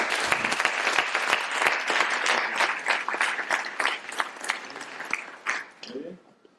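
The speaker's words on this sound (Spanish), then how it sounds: "vamos a darle un fortísimo aplauso a Agustín Leal" A university audience at a psychology-of-illusionism conference day gives a strong round of applause, dense clapping that swells and holds, with faint voices mixed in, then fades out near the end.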